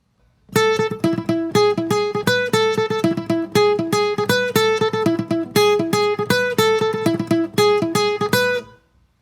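A guitar plays a quick, repeating melodic lick from a song in plucked single notes, bright and clear, looping several times before stopping.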